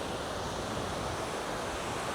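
Ocean surf rolling onto a quiet beach in Da Nang, a steady broad wash of waves mixed with wind buffeting the microphone, constant and fairly loud with no voices.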